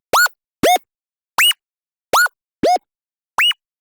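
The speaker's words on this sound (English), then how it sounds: "I did find that using the bit crusher set to max gives a really great sound however." Wip/woop synth with its bit crusher set to maximum, six sharp pitch-bending bursts in an uneven rhythm, alternately higher and lower, loud and gritty with silence between each hit.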